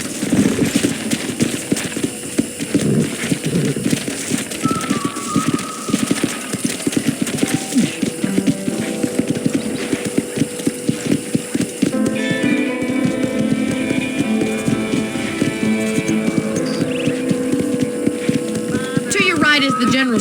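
Horse hooves clip-clop steadily while riding in the video game Red Dead Redemption, under continuous game music and ambient hum across the whole stretch.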